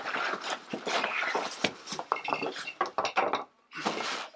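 A box of homebrew accessories is handled up close, its loose contents rattling and clinking in quick irregular bursts for a few seconds.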